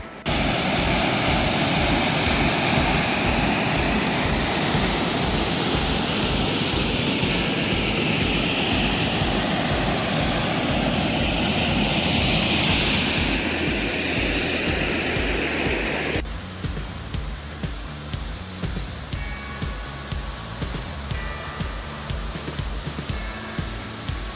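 Small mountain waterfalls along the Berg Lake Trail near Mount Robson make a steady, loud rushing roar that fills the scene, then thins abruptly partway through to a quieter, grainier flow.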